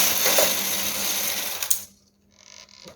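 A knitting machine carriage rattles and whirs as it slides across a row, a close mechanical run that stops abruptly near the end, followed by a brief quieter clatter.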